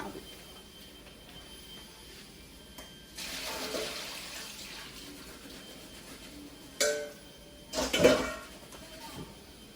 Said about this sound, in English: So I just strained my diced potatoes